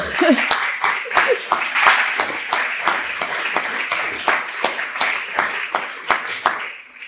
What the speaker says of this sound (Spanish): no hace falta que aplaudáis